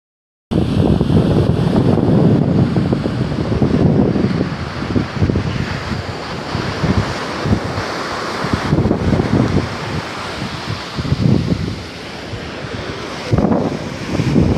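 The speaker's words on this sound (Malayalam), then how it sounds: "ഇത് കോഴിക്കോട് സൗത്ത് ബീച്ചിൻ്റെ നോർത്ത് സൈഡാണ്" Sea waves break and wind blows at night on the north side of Kozhikode South Beach, a loud continuous surf roar with surging swells and wind buffeting the microphone, with no voices.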